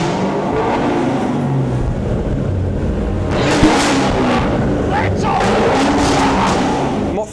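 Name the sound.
car exhaust revving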